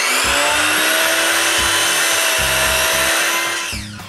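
A loud miter saw cutting wood whines steadily with a low rumble beneath, then spins down near the end.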